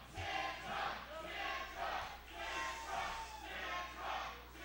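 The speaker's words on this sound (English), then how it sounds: "the crowd behind Tyler Centron here" A wrestling crowd cheers in rhythmic waves of chanting and shouting, backing the wrestler Tyler Centron in an arena, steady and fairly distant.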